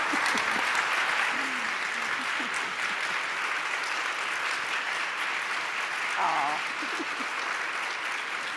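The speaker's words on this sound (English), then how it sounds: "Can we please have a huge round of applause for these two women?" A conference plenary audience gives sustained applause to two women, a broad, steady wash of many hands clapping throughout, with a few faint voices and cheers mixed in.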